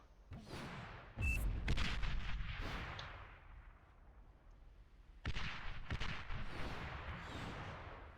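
Artillery fire in the real-time strategy game Beyond All Reason, a couple of sharp booming shots followed by a sustained rumble of gunfire, moderately faint with no voices.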